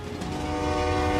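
Polar Bear Express passenger train on the railway to Moosonee in northern Ontario, a loud sustained horn blast over rumbling rail noise, growing slightly louder.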